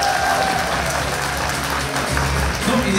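An audience at a children's dance concert claps steadily in dense, sustained applause.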